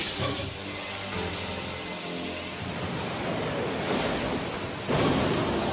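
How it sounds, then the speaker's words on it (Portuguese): A water-style Giant Vortex jutsu from the Naruto anime churns as a loud, dense roar of swirling water, rising from a low rumble into a broad rushing surge with a sharper burst near the end. "Estilo água, Jutsu Vortex Gigante."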